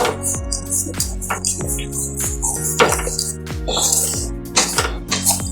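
A spatula repeatedly scrapes and clanks against a pan as spices are stirred in hot oil over a high gas flame for chicken curry, in loud, close, rhythmic strokes.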